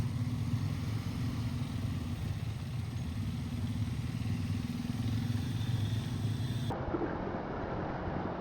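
A group of motorcycles sets off together on a ride, their engines making a steady, loud rumbling drone that carries continuously without breaks.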